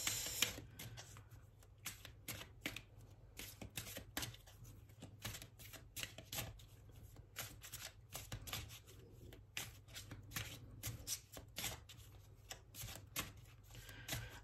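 A deck of oracle cards being shuffled and cut by hand, a faint, close run of rapid riffling flicks and taps repeating in irregular bursts throughout.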